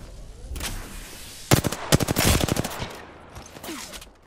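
Rapid bursts of video-game gunfire in a shooter match, a short burst then a longer rattling string of shots, loud and close with no talk over it.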